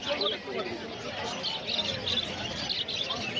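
Pet birds such as long-tailed and golden varieties at a busy open-air market in Uluberia give quick high chirps and tweets, mixed with close chatter and people talking.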